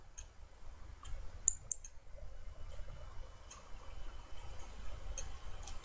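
A computer mouse clicks several times during website file management work, giving sharp, faint, sparse ticks with low room noise between them.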